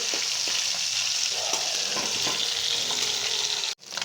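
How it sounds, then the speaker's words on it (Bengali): Fish fries in a pan with a loud, steady crackling sizzle close by, broken by a few scraping knocks as the pieces are turned over, then briefly cutting out near the end before resuming. "মাছটা ভাজি দিয়ে মাছগুলো সুন্দর করে উল্টাই নেব"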